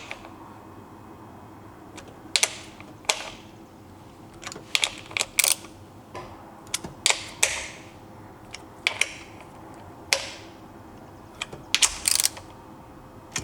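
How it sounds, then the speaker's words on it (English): A ratchet snugs spark plugs into the aluminum head of a Yamaha WaveRunner VXR, giving off close, crisp bursts of rapid clicking in short irregular clusters with brief pauses between them. No voices. "Just gonna snug them up with the wrench, or ratchet"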